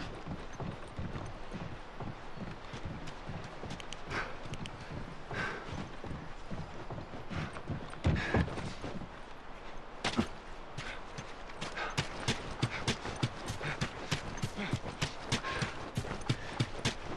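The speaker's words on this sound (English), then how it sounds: "Come on, back to the horses." Horse hooves clip-clop steadily in the video game The Last of Us, a close, busy rhythm of many quick hoofbeats running the whole stretch with a few sharper knocks, no voices.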